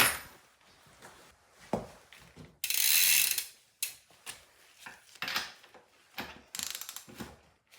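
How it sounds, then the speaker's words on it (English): Close metallic ratcheting clicks of a wrench loosening a bike axle bolt in short bursts, with a longer rasping grind in the middle and scattered clanks of the tool on the fitting. "we're going to need to start off by loosening the left side bolt"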